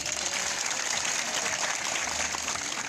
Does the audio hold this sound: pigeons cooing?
no